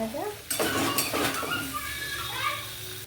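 Vegetables frying and being stirred in a pan for a child's mild dish, with a spatula scraping in bursts over a steady sizzle and a brief voice at the start.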